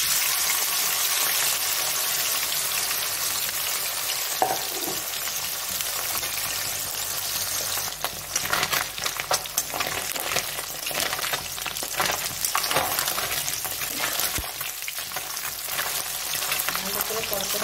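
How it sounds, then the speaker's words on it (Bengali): Small mourola fish fry in hot oil with a loud, dense, crackling sizzle that grows busier and more spattering partway through, heard up close with no talking. "তেল গরম হয়ে গেছে, এবারে মৌরলা মাছটা ভেজে নেব"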